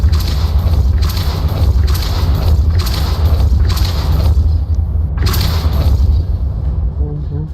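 Depulso force-push spell cast in Hogwarts Legacy on ultra settings: a run of repeated whooshing bursts with booming impacts, spaced about a second apart over a steady low rumble, loud and close, with no talk.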